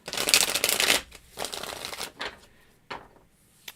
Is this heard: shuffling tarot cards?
yes